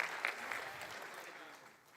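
An audience at a church service claps together in a brief, fairly faint round of applause that tapers off slightly toward the end.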